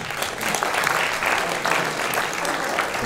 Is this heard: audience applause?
yes